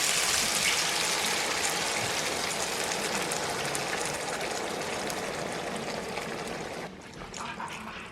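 Coconut milk and buttermilk pour into a pan of sautéed seasoning for saltfish rundown, a steady close liquid gush that thins and stops near the end.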